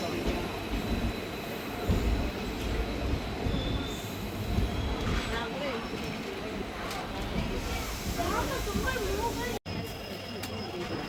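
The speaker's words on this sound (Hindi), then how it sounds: "अब हमारी ट्रेन का अराइवल हो रहा है परमकुड़ी रेलवे स्टेशन पर" A train rumbles and rattles along the rails with squealing wheels and hissing brakes, slowing steadily as it arrives at Paramakudi railway station in India, with faint voices in the background.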